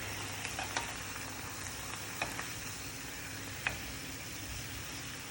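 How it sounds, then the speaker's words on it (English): Steady sizzling of steak frying in a pan, a dense crackling hiss with a few sharper pops scattered throughout. "once this starts sizzling on one side, I'm just going to turn it over"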